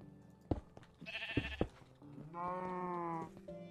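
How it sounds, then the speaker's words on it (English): Sheep bleating in the Minecraft video game, a few quiet wavering bleats with short thuds and game clicks between them, fairly close and alone without talk. "That was a smart fucking sheep"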